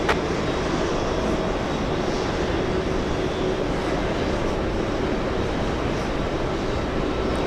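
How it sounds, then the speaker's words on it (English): A JetBlue Airbus A220 jet airliner arriving from the Bahamas at JFK gives a steady, loud broadband engine roar that holds evenly throughout, with no voices over it. "It's an Airbus A220 flying in from the Bahamas."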